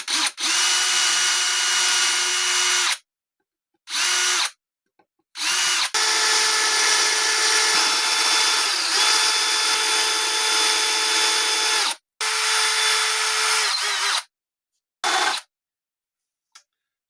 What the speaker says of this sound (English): Just using this stepper bit to really center the holes because it fits right into the bridge plate holes